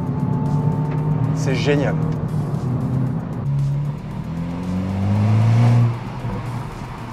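Hyundai i20N engine revving to about 4000 rpm, rising loud and close inside the car, then easing and surging again, with people talking over it.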